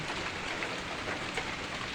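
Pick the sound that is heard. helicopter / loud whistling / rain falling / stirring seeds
rain falling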